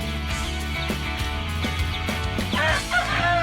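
Rhode Island White and Light Sussex hens in farm pens cluck in short repeated calls over a steady low background hum, with a few sharper squawks near the end.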